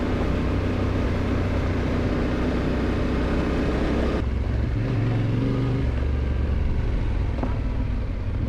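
A motorcycle hums steadily at cruising speed through old rock cuts on a long touring trip, with a continuous low engine drone and heavy wind roar that shifts in tone partway through.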